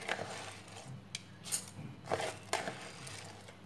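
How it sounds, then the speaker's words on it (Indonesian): Uncooked rice poured into a cooking pot before making savory grilled rice, heard as scattered rattling grains and clinks in uneven bursts, close and moderately loud, with no talking. "Pertama-tama kita masukkan berasnya."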